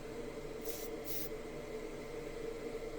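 Two short bursts of white aerosol spray paint hiss, close by, onto a Hot Wheels T-Bucket model, over a steady low background hum.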